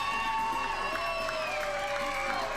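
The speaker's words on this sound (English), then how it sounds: "All those in favor of Ashley, please make some noise." An audience at a comedy show cheers, whoops and applauds continuously, a dense crowd roar with shrill voices rising above it.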